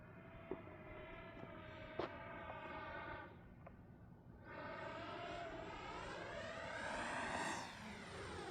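An RC model jet fitted with drop tanks roars through a speed run, its turbine whine sweeping up and down in pitch as it passes near and then away, loud and steady with no talking.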